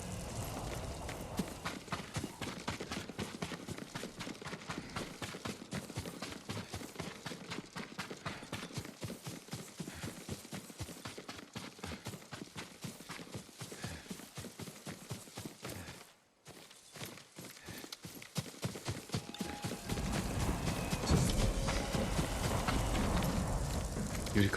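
Horse hooves clip-clop in Ghost of Tsushima, with a fast, steady run of close, distinct hoofbeats that breaks off briefly, then returns under a rising whoosh of wind or fire.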